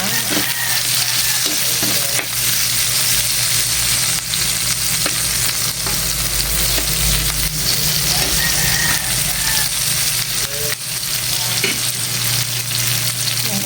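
Garlic and onion sauté in a hot pan with a loud continuous sizzle throughout, plus the scrape of stirring.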